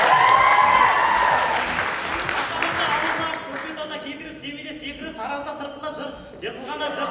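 Audience at a student KVN comedy show applauds loudly, the clapping steady at first and then settling into a lighter, continuing patter with some crowd murmur.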